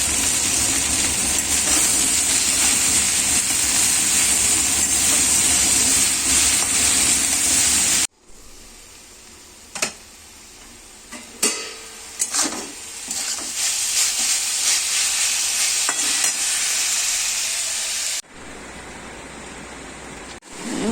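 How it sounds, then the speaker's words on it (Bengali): Steady loud sizzling of red amaranth leaves frying in a pan for several seconds, then quieter stirring and scraping with intermittent clinks, ending in sizzle again. "লাল শাকটা ভাজা করছি"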